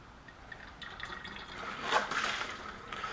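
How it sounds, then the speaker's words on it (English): Engine oil pours out of an opened Fumoto quick drain valve during an oil change, a steady liquid splash that swells midway and keeps running, close by with no talk. "All I have to do is just open it up and the oil just pours right out."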